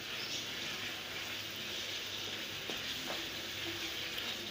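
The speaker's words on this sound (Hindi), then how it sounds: "नमक डाल दिया है, इसको अच्छी तरीके से मिक्स कर लेंगे।" Salted kaleji (liver) masala being mixed in a frying pan, giving a steady soft sizzle and hiss throughout with faint stirring scrapes, no talking.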